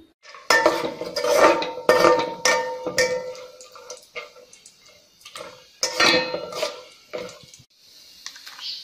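Almonds, cashews, pistachios and coconut are fried in ghee for paal semiya payasam while a metal spoon stirs them, giving clattering, irregular clinks and scrapes against the pan in bursts with short pauses.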